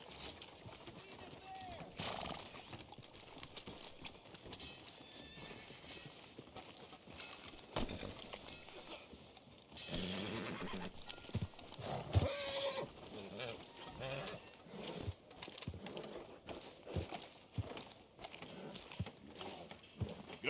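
Horse hooves clip-clop through a busy town street in the Western video game Red Dead Redemption 2, fairly faint under steady game dialogue and ambient bustle, with no clear whinny standing out.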